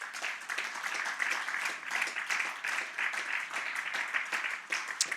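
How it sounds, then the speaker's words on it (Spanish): A church congregation claps steadily during a sermon, a fairly distant, even patter of many hands lasting several seconds without a break. "Un aplauso al Señor."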